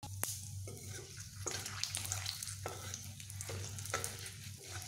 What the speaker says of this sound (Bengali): এবার ফোড়ন একটু আমি ভাজবো